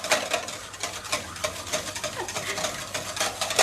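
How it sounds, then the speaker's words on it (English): A spoon swirls through a dissolved yeast mixture for bread, making quick repeated scraping and clinking strokes against the bowl in a busy, fairly close rhythm for a few seconds. "so just give it a bit of a stir."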